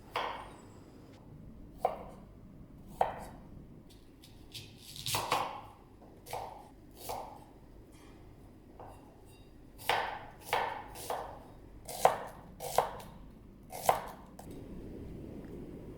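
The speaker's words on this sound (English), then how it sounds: "Cut vegetables in bite size." Vegetables are chopped into bite-size pieces on a board, sharp knife thuds arriving in scattered single strikes and short quick bursts, close and clear against a quiet room.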